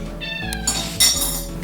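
A cat gives a single short, close meow that rises and falls over a faint background.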